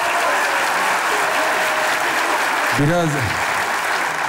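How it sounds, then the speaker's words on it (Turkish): A studio audience applauds in a steady, even wash of clapping that fills the whole stretch, with a brief spoken word and a voice rising over it near the end. "eşit bir alkış var"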